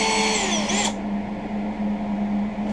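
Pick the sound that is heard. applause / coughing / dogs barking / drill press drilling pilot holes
drill press drilling pilot holes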